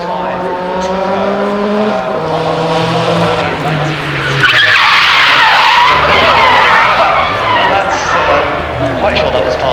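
A Renault 5 Turbo race car on the Goodwood hillclimb, its engine note rising and falling before a long loud tyre squeal and skid, with a commentator talking over it.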